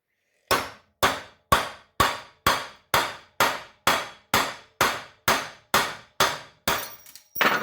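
About fourteen sharp metallic strikes land in an even rhythm, a Scandi grind knife of 80CrV2 steel hammered against a big nail, each hit ringing briefly and loud, close up with no talk.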